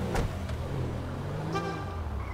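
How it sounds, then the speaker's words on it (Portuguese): Car horn honking in GTA V, a couple of short toots over steady traffic and engine noise, fairly clear and close. "Buzina é da hora, mano."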